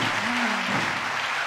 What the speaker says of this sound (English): I'm clapping to the God of our Father.